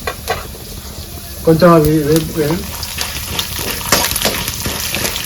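Urad dal fries in a pan with a continuous crackling sizzle and occasional stirring clatter, while a voice speaks briefly over it.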